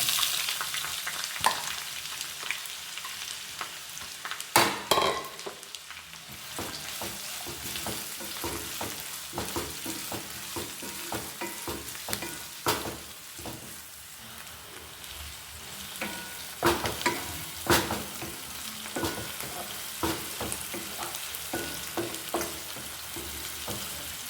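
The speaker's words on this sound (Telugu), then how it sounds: "ఇప్పుడు మనం ఇదే ఆయిల్లో ఆనియన్స్ పచ్చిమిర్చి వేసి ఫ్రై చేసుకున్నాము." Chopped onions and green chilies fry in hot oil left over from frying prawns for a spicy prawn, brinjal and tomato curry, giving a steady close sizzle with frequent sharp scraping stirs and clatters throughout.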